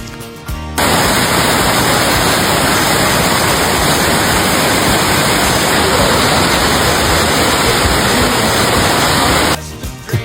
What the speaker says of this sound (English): The falls to the right is York Creek, which drops 50 feet.